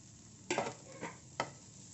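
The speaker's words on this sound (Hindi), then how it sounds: "अब अच्छी तरह से मसालों के साथ मिक्स करेंगे। थोड़ी देर इन सब्जियों को पका लेंगे" Frozen vegetables and green chili are stirred in a hot pan for a street-style masala Maggi, giving three separate scraping strokes with a soft sizzle beneath.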